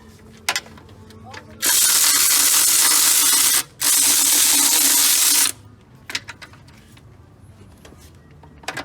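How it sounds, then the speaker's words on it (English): Two long bursts of a power ratchet or impact tool spinning out 12mm intake manifold bolts on a Nissan 350Z, each lasting about two seconds with a brief gap, loud and close, framed by quiet clicks and handling noise. "Alright, so removing these, the 12mm bolts."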